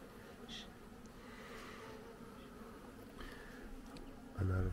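Honeybees buzzing in an opened beehive during a brood disease inspection, a faint steady hum close by, ending in a louder handling knock.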